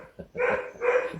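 After a few faint low sounds, a dog lets out two loud barks close by, one after the other.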